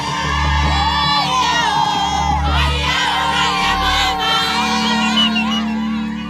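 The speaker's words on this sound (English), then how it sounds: "we drove straight into crowds gathered to celebrate the arrival of the rebels" A large crowd in the Democratic Republic of Congo celebrating the arrival of rebels, with loud sustained cheering, whooping and shouting voices mixed with children's cries over a steady low engine drone, close and continuous.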